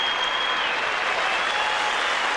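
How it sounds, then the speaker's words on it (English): A packed arena crowd gives a loud, sustained ovation at a New Jersey state wrestling championship, with dense steady clapping and cheering throughout. "As you still hear the crowd with the ovation right now."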